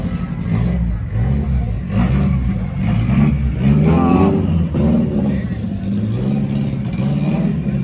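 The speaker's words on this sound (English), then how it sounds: "That's the mid-engine Corvette." A 2020 Chevrolet C8 Corvette with its mid-mounted engine and quad exhaust revs loudly and steadily, the engine note rising and falling, while speech mixes in over the throaty roar.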